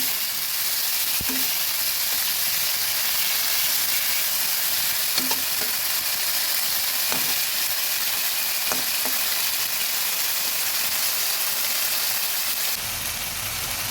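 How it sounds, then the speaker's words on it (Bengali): Prawns fry in hot oil in a pan, giving a steady close sizzle with a few light scrapes as they are stirred, until the sizzle drops away near the end. "চিংড়ি মাছগুলো ভেজে নিয়েছি, এখন তুলে নেব।"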